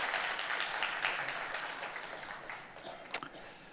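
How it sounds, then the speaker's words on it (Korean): A church congregation at a Sunday service in Kuala Lumpur claps in a sustained round of applause that gradually fades, with one sharp knock or clatter near the end. "다시 한번 뜨거운 박수 한번 하도록 하겠습니다."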